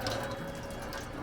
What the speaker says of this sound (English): Give them a nice rinse out.